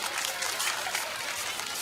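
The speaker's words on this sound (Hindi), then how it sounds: "तो एक बार फिर से जोरदार तालियां हो जाए निधि और शिवांगी के लिए" An audience at a school Republic Day annual function applauds loudly for two performers, a dense continuous wash of many hands clapping at once, steady and somewhat distant.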